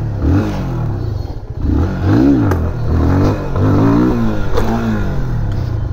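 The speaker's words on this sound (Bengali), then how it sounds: "অ্যাক্সেলেটরটা একটু জোরে দিলেই কিন্তু কি হচ্ছে, আপনার বাইকটা লাফাচ্ছে" A Yamaha FZ25 motorcycle engine revs up sharply several times as the throttle is opened, each rising blip falling back to idle, loud and close with no talking.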